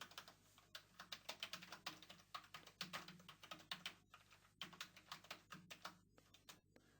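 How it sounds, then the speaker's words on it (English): Fingers type on a computer keyboard while transform code is written, giving quiet, close bursts of rapid key clicks in uneven runs with brief pauses between phrases. "now we need to write the transform for the run."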